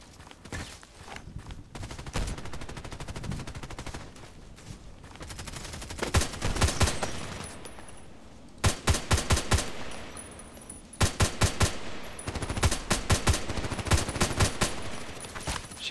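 An HK417 rifle fires in a video game: scattered shots early on, then loud, rapid volleys of close gunfire in two clustered bursts, with some footsteps in the background.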